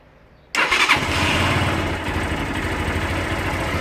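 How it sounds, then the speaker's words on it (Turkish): A cold Mondial Drift 200cc fuel-injected motorcycle starts abruptly after a brief quiet moment, then settles straight into a steady, close, fairly loud idle with a deep throb. "Marş yapıyorum."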